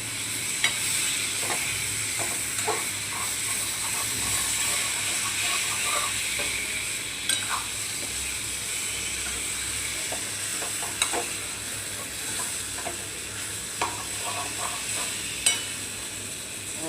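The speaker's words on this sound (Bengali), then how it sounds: "ডিমটা ঢেলে দিলাম, দিয়ে আর একটু কষাই।" Egg poured into a pan of spices and sautéed, producing a continuous close sizzle and hiss with intermittent scraping and tapping spatula strokes, no voices.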